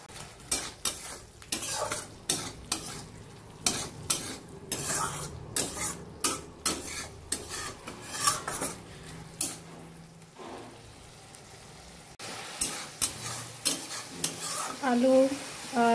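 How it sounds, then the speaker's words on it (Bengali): Spices and fried potatoes sautéed in a pan for a Bengali home-cooked meal, with a steady sizzle under repeated metal spoon scrapes and stirring clinks against the pan, close and fairly loud, with no talking. "মশলাটা কষানো চলছে।"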